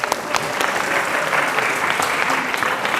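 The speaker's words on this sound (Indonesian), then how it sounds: "Tepuk tangan dulu, tepuk tangan dulu." An audience at an Islamic lecture claps in a steady, dense burst of applause from many hands, loud and continuous for the whole stretch.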